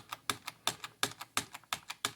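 Keys on a computer keyboard pressed one after another, about a dozen crisp close clicks in a quick, slightly uneven rhythm, heard alone, during a build with an ASUS ROG Strix B450-F Gaming motherboard.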